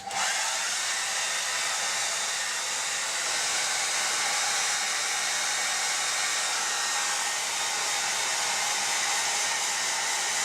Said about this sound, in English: done blow drying